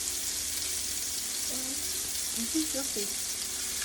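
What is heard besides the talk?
dumplings frying in a skillet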